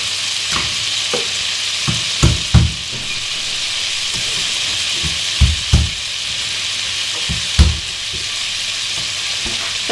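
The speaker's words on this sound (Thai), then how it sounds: "กระเทียมลงไปทอดใน เนยด้วยค่ะ" Garlic fries in butter for a Thai home-cooked dish, giving a steady hissing sizzle with occasional sharp pops and soft stirring knocks throughout, close up and with no voices.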